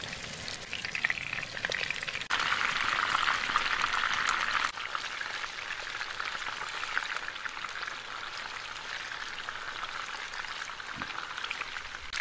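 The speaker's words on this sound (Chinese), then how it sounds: "起锅烧油，多加一点油，热以后下入鱼块，" Fish pieces dropped into a generous amount of hot oil in a wok, setting off a loud, dense, crackling sizzle that holds steady and eases slightly toward the end, with no talking.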